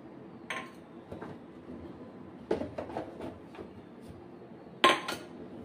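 A utensil scrapes and clinks against a bowl while chili powder, turmeric, cumin and salt are mixed for egg chops, with soft intermittent stirring and a few sharp, close metallic knocks.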